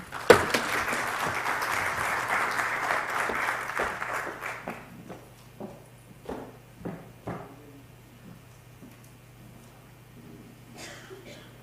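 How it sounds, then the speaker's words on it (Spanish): An audience at a university event in Chile breaks into applause, a dense burst of clapping for the first four seconds that thins into scattered claps and fades out, with a steady low hum beneath. "Un aplauso para él, por favor."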